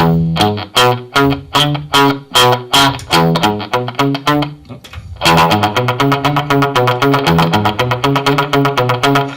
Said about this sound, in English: we have this delay that's filling in the gaps